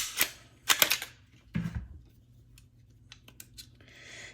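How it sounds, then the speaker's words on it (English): A Glock 34 Gen 5 MOS pistol is taken apart, its captured recoil spring assembly removed from the slide: a few sharp metallic clicks and snaps, then a brief low thud, a scrape and soft scattered taps near and alone. "And so the recoil spring, we'll take this apart here."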